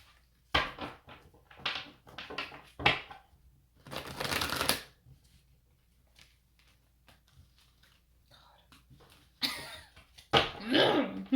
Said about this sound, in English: Alright, one more shuffle.